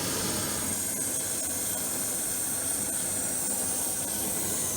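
A steady, even hiss of a mini butane cartridge stove burner running continuously, a constant airy roar at moderate volume with no pauses.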